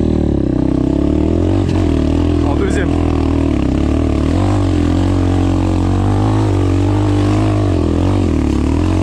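An Apollo Sano DMZ 250 dirt bike roars up a steep slope with a loud, sustained single-cylinder engine drone that holds high revs throughout, while someone speaks briefly over it.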